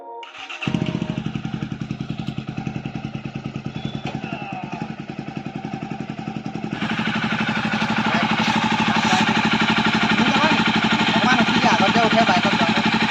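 A Jawa 42 motorcycle engine catches after a brief start and settles into a steady, rhythmic thumping idle close by, growing slightly louder partway through, with people talking over it.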